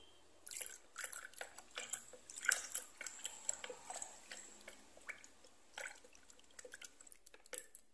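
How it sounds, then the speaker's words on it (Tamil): Acid thickener being mixed into water for a homemade toilet cleaner, giving faint liquid sloshes, drips and small clinks in an irregular pattern, close by and quiet, with no one speaking. "இதை நல்லா வந்து மிக்ஸ் பண்ணிடலாம்."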